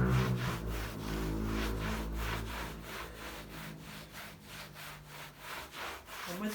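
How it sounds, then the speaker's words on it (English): A cloth rubs black wax back and forth over a textured wooden console, giving a steady rhythmic scuffing with regular strokes, close and fairly loud, with no voices. "I'm going to have to keep moving my cloth around so it picks up the black wax as well"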